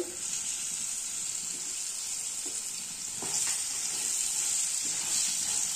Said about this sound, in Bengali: এবারে দিয়ে একটুখানি আলু একটু ভেজে নেবো।